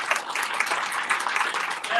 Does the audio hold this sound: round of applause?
yes